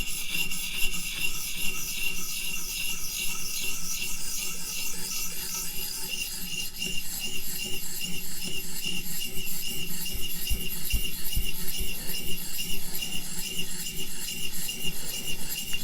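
Steady rasping strokes of a knife sharpener working the edge of a Hinderer Firetac blade, a continuous gritty scrape with a regular back-and-forth rhythm, close and fairly loud, with no talking.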